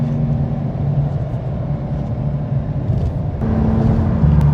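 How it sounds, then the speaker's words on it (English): A V6 Dodge car engine idling with a deep, loud rumble, rising in a short rev as the gas pedal is tapped near the end, heard close and alone. "All I'm doing is tapping the gas and look at the RPM."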